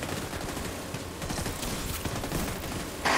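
Rapid, sustained gunfire from a machine gun in The Division 2 during a chaotic eight-player raid boss fight, dense crackling bursts running nearly nonstop with a louder burst at the end.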